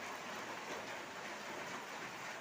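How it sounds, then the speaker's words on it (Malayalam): Heavy rain pouring steadily as a dense, even hiss during tree cutting near a power line, with no voices. "നല്ല മഴയുണ്ട്"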